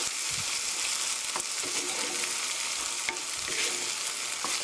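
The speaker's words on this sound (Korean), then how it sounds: "살짝 볶아주세요" Tomato sauce with a little sugar sizzles steadily in a pan, a continuous close frying hiss with occasional soft stirring scrapes, no talking.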